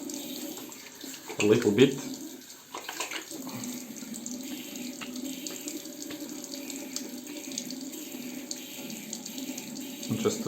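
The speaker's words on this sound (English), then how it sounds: "so I will just rinse" A bathroom tap runs steadily as the face is rinsed after shaving with a Merkur Progress safety razor, with a few louder splashes early on. Someone speaks briefly over the water.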